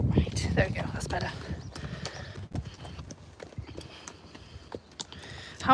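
Friesian horses at a sanctuary clip-clop in an irregular run of hoof strikes, with a neigh near the end, while people talk over the hoofbeats.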